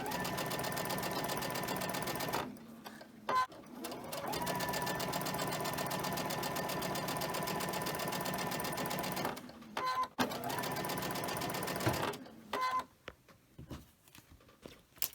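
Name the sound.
sewing machine chain stitching quilt pieces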